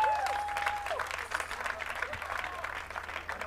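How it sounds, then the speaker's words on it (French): Applause for a gospel group at a festival competition in Kinshasa, a faint, distant crowd clapping with some cheering tones over a low hum, brief and steady. "On les applaudit."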